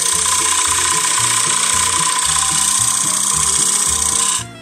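A cutting tool bites into spinning wood on a lathe as a 10mm-wide groove is cut. It gives a loud, close, rasping scrape with a rhythmic chatter that continues throughout and eases off at the very end.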